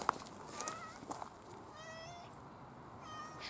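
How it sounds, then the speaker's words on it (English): A stray cat meows several times in short, mid-pitched calls, fairly close, over a quiet outdoor background with faint noise. "Stray cat out of nowhere."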